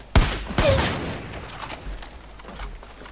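Shotgun blasts in the video game Far Cry 5: two sharp, loud booms in quick succession followed by fainter distant gunfire and rumble, with no talking over it.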